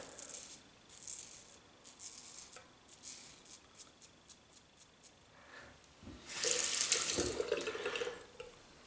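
A Muhle R41 safety razor is rinsed under a running tap: soft splashing and intermittent trickles at first, then a louder surge of water for a couple of seconds, quiet and close.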